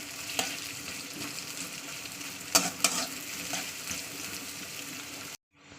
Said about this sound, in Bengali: পেঁয়াজটাকে একটু ডালি করে ভেজে দিতে হবে